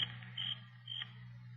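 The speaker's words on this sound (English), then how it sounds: "Crickets and insects." Crickets and insects chirping at night in a wooded spot, a faint high trill rising in two brief pulses over a steady low hum.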